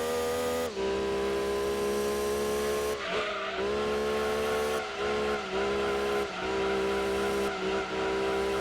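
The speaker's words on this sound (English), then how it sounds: "despite the fact that this car has the maximum downforce, it still wants to have fun and still wants to drift." A race car in the PlayStation Gran Turismo 2 video game drifts under high downforce, its engine droning steadily while tires squeal in repeated sustained bursts, with brief dips as the car changes direction.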